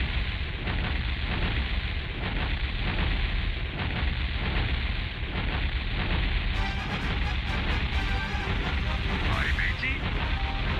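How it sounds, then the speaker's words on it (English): Continuous loud rumble of ship cannon fire and explosions in the Warcraft II game, dense and unbroken booms layered over crackling noise, with brief talk over it. "All of the explosions."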